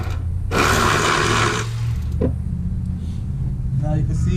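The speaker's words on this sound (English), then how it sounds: "now I got my ratchet wrench to get it to come out faster" A ratchet wrench whirs loudly for about a second as it spins out a control arm bolt during upper control arm replacement, followed by fainter clicks and workshop noise.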